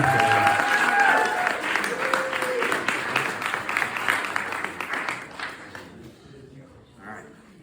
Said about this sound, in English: I want everybody to give a really warm, welcoming round of applause to Sherry.